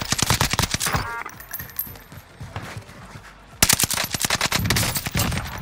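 NZ gun firing in the video game Warzone on Rebirth Island, rapid automatic bursts of loud sharp shots in two long volleys with a short lull between them, close and dominant.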